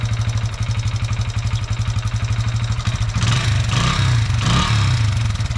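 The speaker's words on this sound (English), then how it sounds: "This thing usually, it cranks really good, so first kick." A Honda XR80 motorcycle's small single-cylinder engine runs at a close, loud, steady idle that putters rapidly, then rises into two brief revs near the end.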